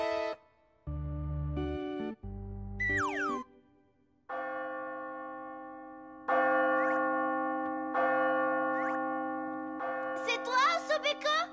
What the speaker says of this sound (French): Sonnez les cloches!